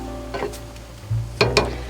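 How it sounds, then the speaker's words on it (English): Biscuits cooking in a pan on a stovetop inside a truck camper give a steady, soft sizzle, broken by a few brief clinks and bumps, with no talking. "Gonna attempt to cook some biscuits on the stovetop."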